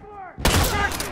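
Video game gunfire aimed at the player on a checkpoint map bursts in suddenly as a rapid, loud fusillade of close shots.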